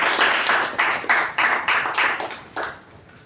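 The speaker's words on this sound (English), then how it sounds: "let us give them a huge round of applause" A small group at a Toastmasters meeting claps in short, rhythmic bursts, about eight in a row, close by and fairly loud, fading at the end.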